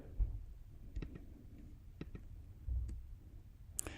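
A few sparse, quiet computer mouse clicks, spaced irregularly over a faint room background, with no speech.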